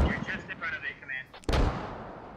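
Mortar fire in the military shooter game Squad, a deep booming blast near the middle after a stretch of chatter, with a rumbling tail as a voice talks over it.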